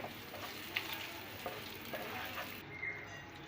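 Ground red chili hits hot oil for a tadka tempering for beef nehari, giving a steady, close sizzle and crackle throughout, with a few soft stirring knocks and no talking.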